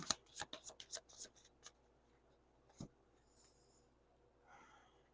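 Tarot cards shuffled up close, a quick flurry of crisp riffles and slaps, then a single tap and faint rustling and breathing in a quiet room.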